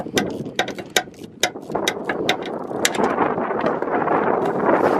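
A series of quick ratcheting clicks from a ratchet wrench loosening a car battery's negative cable, close up outdoors, followed by a rising rush of wind buffeting the microphone.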